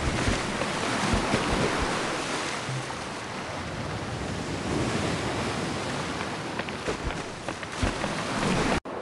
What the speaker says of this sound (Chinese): 风和海水却改变了它原来的样子